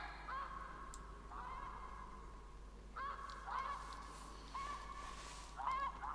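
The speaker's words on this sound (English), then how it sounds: "I hear geese somewhere" Snow geese honk in the distance during an outdoor bow hunt, faint repeated calls coming in scattered bursts over a quiet background.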